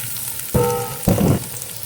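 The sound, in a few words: chorizo de bilbao frying in a pan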